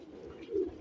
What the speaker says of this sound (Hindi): एक और कबूतरी दिखाओ जी, सेबे वाली जड़ी कबूतरी